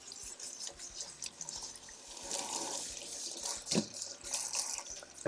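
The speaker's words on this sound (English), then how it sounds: "Just going to use a vegetable brush and wash these under running water." Potatoes scrubbed with a vegetable brush under a running kitchen tap: a steady hiss of flowing water with splashes and light scrubbing, fairly quiet and close, with no talk.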